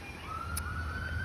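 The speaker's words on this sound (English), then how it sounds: "we got some sirens coming here" A faint emergency siren passes in the distance, a thin rising wail over low steady background rumble, with no talk.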